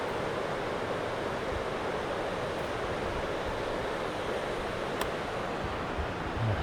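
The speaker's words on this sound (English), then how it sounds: "down there's the creek that I'm paralleling" A continuous rushing water sound, broad and steady like a flowing creek, with no voices over it.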